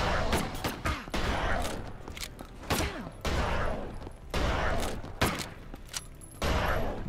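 Repeated bursts of Uzi gunfire ring out in The Last Exterminator, a video game, in short loud volleys separated by brief pauses and mixed with mechanical game effects.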